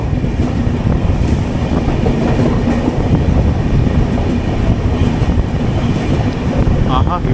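The 12618 Mangala Lakshadweep Express runs through Roha station, heard from on board as a loud, steady rumble and rattle of wheels and carriages, continuous throughout the clip.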